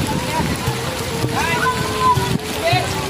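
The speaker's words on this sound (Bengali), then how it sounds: "প্রচুর বৃষ্টি প্রচুর বৃষ্টি প্রচুর বৃষ্টি হঠাৎ করে বেশি নেমে বসছে" Heavy rain pattering steadily around a village boat on the water, a continuous dense hiss with people talking and calling out over it.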